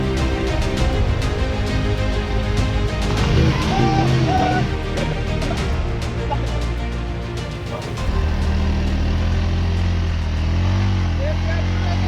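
A motorcycle rides through desert sand during a rescue, its engine droning loud and close without a break. The rider revs it and it strains through the sand, dipping briefly before building again, while voices talk over it.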